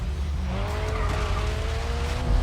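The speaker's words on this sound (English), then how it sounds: "I think this car has a lot of power, so hence it's gonna spin out quite a bit" A powerful rear-wheel-drive race car in GRID Legends, on the Mount Panorama circuit, spins out with a continuous tire squeal and skid over a steady engine drone, close and loud throughout.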